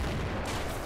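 Dense, continuous artillery fire in the WWII strategy game Men of War, a steady rumbling barrage of overlapping booms and crackling shots that fills the whole moment with no pauses.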